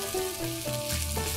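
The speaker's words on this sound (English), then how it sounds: "The vegetables being stir-fried together are creating a nice sizzling sound." Steady oil sizzle from vegetables being stir-fried for lettuce cups in a hot pan, a continuous crackling hiss with low tonal hum underneath, close and fairly loud.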